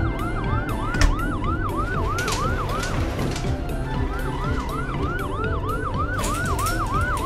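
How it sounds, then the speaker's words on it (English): Cartoon ambulance siren wailing in a steady rising-and-falling yelp, loud and continuous, with a brief pause midway before the cycle resumes, over background music and bumps. "Now it's the ambulance's turn."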